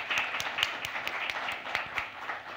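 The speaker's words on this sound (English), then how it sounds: "Let's give them a round of applause." An audience applauds panelists at a press club lunch, a steady stretch of mid-distance clapping with sharp individual claps standing out, no voices over it.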